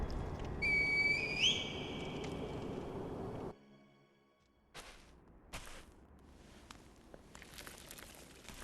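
A reed whistle in the video game Sekiro sounds one rising, warbling tone over a steady hiss, then drops away to near silence broken by a few faint scattered clicks.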